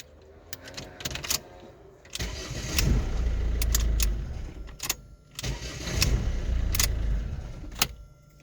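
A Ford Focus engine is started after repair of the ignition lock: a key rattle and click, then two cranking attempts that catch and run as a mid-pitched idle, close and fairly loud, with no talking.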